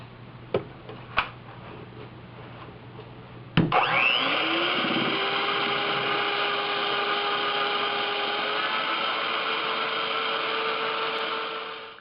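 An electric mixer whirs continuously while beating eggs as granulated sugar is added gradually for a vanilla chiffon cake, a loud, steady motor drone starting after a few light taps and clicks.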